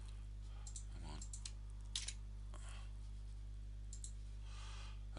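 Computer keyboard used for typing code, light scattered key clicks and a few sharper taps over a low steady hum, close and fairly quiet.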